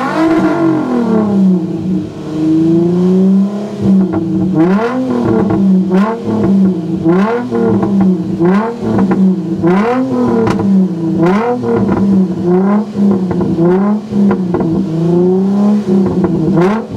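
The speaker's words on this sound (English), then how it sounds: "I'm about to let homie go ahead and hear my exhaust" Loud exhaust of a 400hp tuned Infiniti G37 revving in a repeated rhythm, the engine climbing and dropping roughly every second or so, with no talking.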